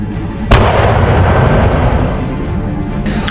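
Heavy explosions from a bombing run in the video game Union Core: a sudden loud blast followed by a dense, sustained rumble of detonations that fills the whole stretch, with another burst near the end.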